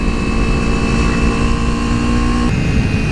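Motorcycles riding along a canyon road near Azusa, a loud steady engine roar close by that shifts pitch partway through as the bikes pass.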